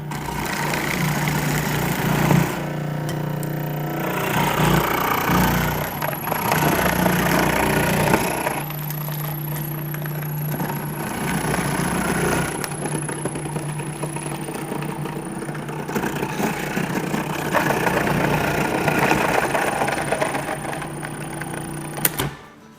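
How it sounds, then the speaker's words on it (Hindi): An electric grater machine shreds peeled carrots with a continuous whirring motor hum and a rough, grinding rasp that rises and eases as pieces are fed in, steady and close for a long stretch. "ब्लेड डाल दिए ग्रेटर की और ऑन करेंगे और ये इस तरह से डालेंगे"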